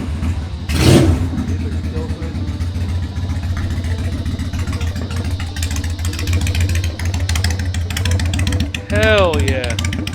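A Honda Goldwing motorcycle engine runs and revs close by with a steady throbbing idle, brief rises in pitch and people talking over it.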